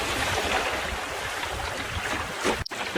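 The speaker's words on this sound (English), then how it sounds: "A few nice waves from that cruiser going past." Waves from a passing cruiser slap and wash against a small sailing dinghy, a continuous close splashing and rushing water sound with a brief lull near the end.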